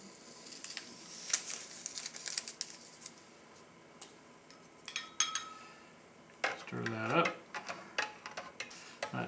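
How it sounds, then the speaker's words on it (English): Coffee with powdered creamer and sugar stirred in a cup, quiet irregular clinks and taps of a utensil against the cup, close by, with a louder rattle toward the end. "Should be enough stirring"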